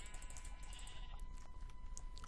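Sheep bleating in Minecraft during German survival play, several short repeated bleats close by over a steady low background hum, with no talking.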